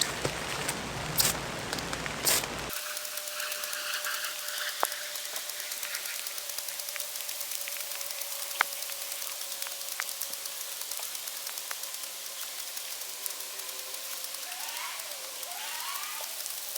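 Light rain patters steadily outdoors on a wet campsite, a soft continuous hiss with scattered drop ticks, after a brief burst of louder handling noise at the start.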